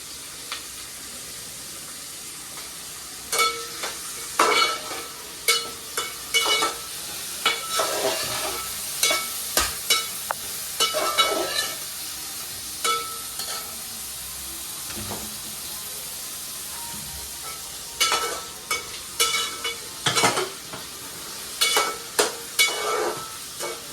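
Carrots get stirred into Manchurian gravy in a pan, with a soft bubbling sizzle under bursts of sharp scraping and clanking from a spatula. The strokes come in irregular clusters, close by, and no voices are present.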